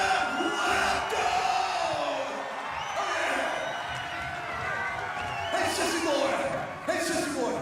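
Wrestling arena crowd loudly yelling and jeering at Jeff Jarrett, a mass of bellowing voices and whoops rising and falling in waves, close and continuous with brief sharper shouts standing out.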